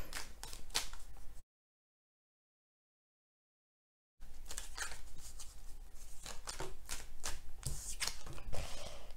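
Tarot de Marseille cards being shuffled in a series of quick riffling, papery bursts, close and fairly soft, broken by a stretch of total silence before the shuffling resumes.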